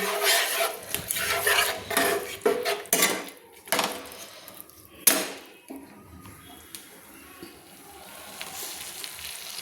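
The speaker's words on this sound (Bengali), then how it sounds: "দিয়ে ভালো করে আবার মশলাটা আমি সুন্দর করে কষিয়ে নিচ্ছি" Spice paste being stirred and sautéed in a pan with a spatula while cooking papaya dalna, heard as irregular scraping and clattering strokes against the metal, louder early on and easing into softer rubbing toward the end.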